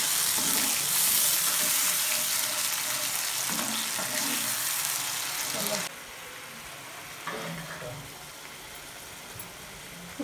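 Spiced water boiling in a pan of Bengali katla fish kalia masala, a steady loud bubbling sizzle that drops to a softer simmer halfway through, with brief clinks and a voice speaking over it.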